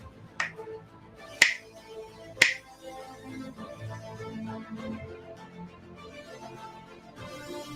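Three sharp finger snaps, spaced about a second apart, crisp and close, followed by a soft murmuring background.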